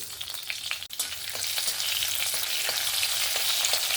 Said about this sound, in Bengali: এবার আমি ফোড়নে দিয়ে দেবো পাঁচ ফোড়ন আর দুটো চেরা কাঁচা লঙ্কা